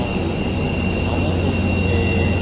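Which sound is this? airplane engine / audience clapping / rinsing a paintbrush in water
airplane engine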